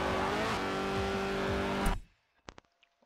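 Opel Speedster mid-engine sports car in a racing game, engine droning and revving loudly with shifting pitch, then cutting off abruptly into near silence broken by a few sharp clicks.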